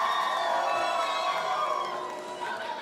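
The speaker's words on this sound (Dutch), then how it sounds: "mag ik nog een ontzettend groot applaus voor Melanie en Claire" Audience at the TVK 2016 finale, a teen event, cheers and whoops for two performers in a sustained, loud crowd roar that fades slightly toward the end.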